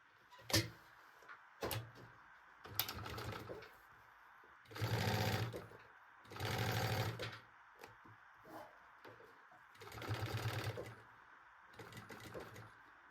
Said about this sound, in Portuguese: você não precisa costurar bem rente a cremalheira, não